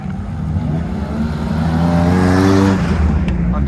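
Car driving past at a French car meet at Oulton Park, engine note rising as it nears and swelling to a peak before fading, with faint talk in the background.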